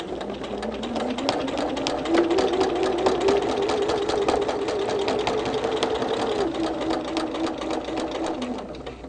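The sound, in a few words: sewing machine quilting a Christmas tree quilt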